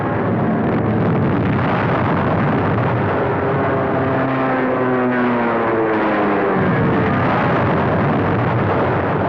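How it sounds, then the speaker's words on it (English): Bombs bursting in a WWII newsreel, a dense continuous roar of explosions and rumble with no distinct individual blasts, heavy and loud throughout, with no voices. "Now, bombs finish the job."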